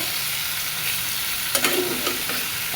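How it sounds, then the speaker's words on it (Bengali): Pumpkin and potato being stirred in a sizzling frying pan, with steady frying hiss and a few scraping stir strokes near the middle and end, close up. "এটা ভালো মতো নাড়াচাড়া করে নিয়ে তো রান্না করতে করতে"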